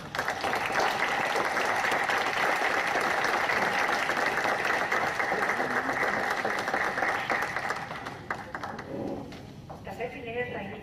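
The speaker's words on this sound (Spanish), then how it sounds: "Le damos un aplauso." At a literature event, an audience gives sustained, dense applause that fills most of the moment, then fades as scattered voices and movement take over near the end.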